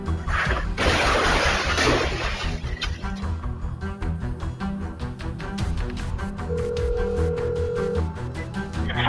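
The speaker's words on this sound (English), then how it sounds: "There's a car that smashed up against the building. She smashed the sign and hit the building." A car smashes into a sign and a building: a loud crash with shattering debris early on, then rattling, scraping impacts and a steady tonal hum continuing under a noisy background.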